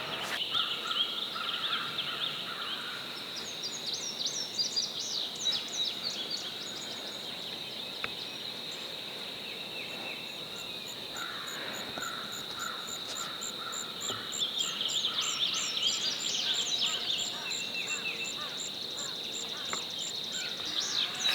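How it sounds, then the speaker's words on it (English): Turkey gobblers call from near a garden, several faint, distant gobbles over steady outdoor ambience with bird chirps, spread throughout. "as soon as you walk up to the corner of the garden, you can hear the gobblers gobbling"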